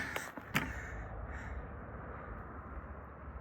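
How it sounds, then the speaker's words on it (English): A crow caws a couple of times near the start, harsh and fairly close, then only quiet outdoor ambience remains. "I just heard a bird."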